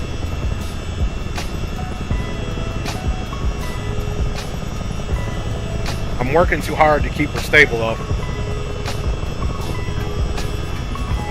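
Rotor thump and turbine whine of a Miltech CH-47D Chinook helicopter in Microsoft Flight Simulator 2020, a steady loud drone throughout with brief clicks, while someone talks over it.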